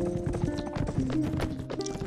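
A ridden horse's hooves clip-clop steadily at a brisk gait in Mount & Blade: With Fire & Sword, close and continuous over layered game sound for about two seconds.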